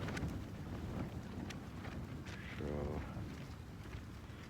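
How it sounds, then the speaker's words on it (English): Steady winter wind buffets a cold tent at dawn after a night of sleet, a continuous broadband rush with a few sharper gusts and flaps, close to the microphone. "The wind's pretty steady. Still fairly windy now."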